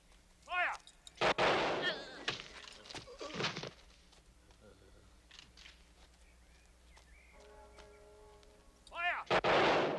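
Soldiers in a film fire a rifle volley, with two loud, close bursts of gunfire, one near the start and one at the end, separated by quieter rustling and movement.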